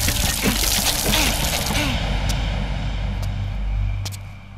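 Water gushes from a hand pump tap in a steady splashing pour. It is loud and close at first, then eases into a quieter trickle while a low hum continues underneath. Voices are heard faintly early on.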